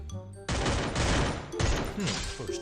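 Rapid gunfire bursts crack in Free Fire, loud and close, with two dense volleys split by a short gap. Voices speak over the shooting.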